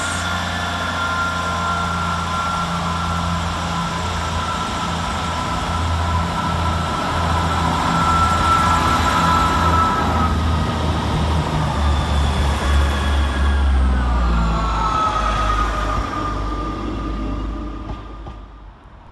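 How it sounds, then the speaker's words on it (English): A Northern Class 158 diesel multiple unit pulls out of Bradford Interchange station, its engine drone loud and steady as it builds and slowly fades toward the end, with no talk over it. "Let's keep the 158s rolling now with the departure of 158756 with the 1351 Northern service from Hull to Halifax."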